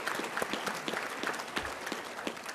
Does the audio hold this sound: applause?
yes